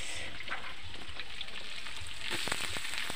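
Garlic and onions fry in a pan, a steady close sizzle with scattered crackling pops that grow busier and louder toward the end, with no voices.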